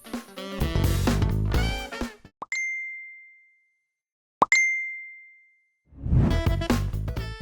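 The Facebook Messenger audio logo: two short, bright electronic dings with smooth fading tails, spaced about two seconds apart in near silence, with busy music before and after.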